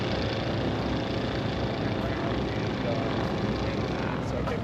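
A new FX2 STOL airplane races at a fly-in drag event, its propeller and engine giving a steady, broad droning roar that holds constant throughout without clear pauses or changes.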